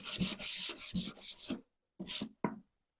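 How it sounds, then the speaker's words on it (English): Sandpaper rubbed by hand over a laser-cut wooden box, a series of about six quick, close scratchy strokes in steady rhythm, a pause, then two shorter strokes, with no talking. "Now what I do is take my sandpaper here and just give it a little wipe."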